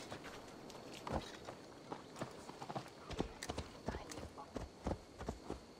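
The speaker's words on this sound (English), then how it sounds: "Get on the horse." Horse hooves clop at a walking pace in Assassin's Creed Valhalla, with irregular thuds over a rustling ambient background, fairly close but quiet.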